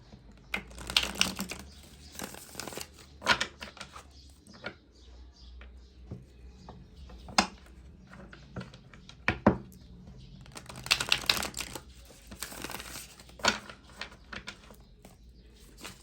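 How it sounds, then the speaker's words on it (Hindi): Cards are drawn and handled from an old tarot deck: irregular bursts of close rustling and shuffling alternate with single crisp flicks and taps across a quiet room, with no talking. "इस पुराने डेक से भी आज कुछ कार्ड्स निकालते हैं।"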